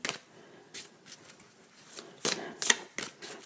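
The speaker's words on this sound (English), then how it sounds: "just keep shuffling" Cards are shuffled in short, crisp riffling bursts, several quick flurries separated by brief pauses, close and fairly quiet with no talking.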